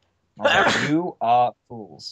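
A single sharp sneeze close to the microphone, followed by brief voiced talk in a podcast setting.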